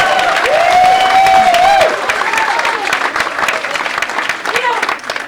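An audience applauding for Cathy Alexander at a Citizen of the Year 2023 event, a burst of clapping under a voice that fades into continued applause.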